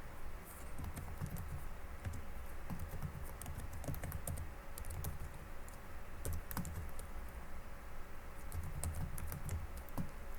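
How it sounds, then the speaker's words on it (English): Steady computer keyboard typing while entering a cover letter in Microsoft Word, with dense continuous key clicks running throughout over a low background hum. "then we're going to type the salutation"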